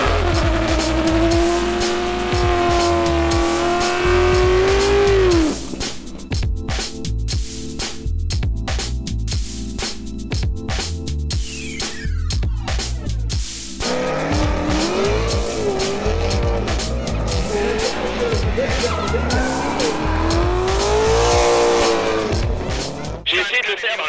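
Drift cars at a competition event lapping with sustained engine roar and repeated long tire squeals, loud and continuous, broken by a brief quieter spell with distant engine noise, while a commentator talks over much of it.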